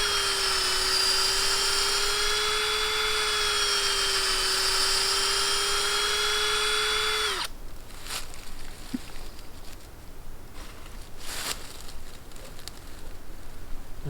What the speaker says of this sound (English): I'll run that bit in and out of the hole a few times to try to get as much of the sawdust